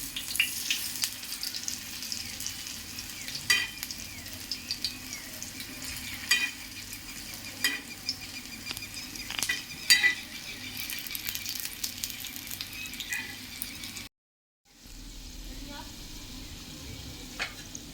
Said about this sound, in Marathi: आता गॅस बारीक करायचा आणि चांगला क्रिस्पी होईपर्यंत तव्यात भाजायचं